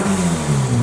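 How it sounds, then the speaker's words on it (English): A project car's engine revs hard and close up, a steady, loud mid-range roar that holds high throughout with a low rumble underneath and no talk over it. "Look at the revs."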